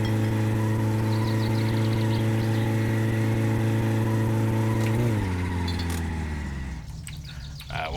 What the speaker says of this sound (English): First gear burnout in the old Satsuma.